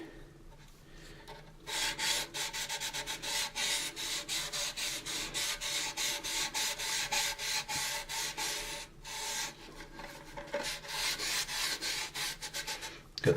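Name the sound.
sanding AMT 1983 USS Enterprise plastic model kit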